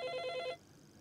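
A telephone bell rings in a quick repeated trill for about half a second, loud and close, then cuts off and leaves a quiet room.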